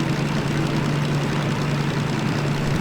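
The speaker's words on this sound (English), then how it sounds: "I can hear the blow-off valve just blowing away there." In the Derail Valley train simulator, a steam locomotive's blow-off valve vents excess pressure in a continuous loud hiss, with a low steady hum running beneath it.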